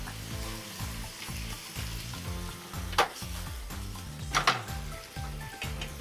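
Meat sauce with diced tomatoes sizzles in a pan while being stirred and mashed, with repeated scraping strokes and a couple of louder clacks of utensil against the pan, close and steady.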